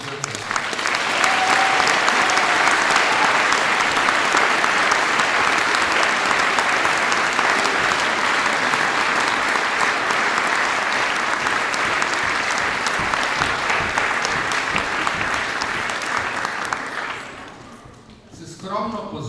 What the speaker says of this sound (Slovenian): En aplavz našim pevcem.